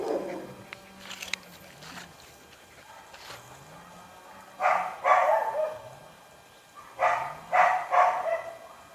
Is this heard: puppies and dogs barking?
yes